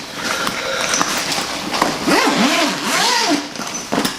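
The zipper on an Avalon Archery hard shell recurve backpack rasps open in a couple of quick, scratchy pulls, close and loud, with faint handling noise around it.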